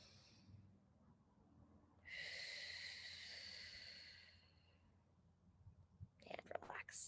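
Slow, audible breaths drawn in through the nose and let out through the mouth, close and quiet, with one long airy exhale followed by a short burst of breathy sounds.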